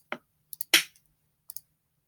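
An electronic drum pattern from a browser music toy plays a sparse beat of short, crisp synthetic hits: a low thump, a louder snare-like burst and light ticks, heard alone and close.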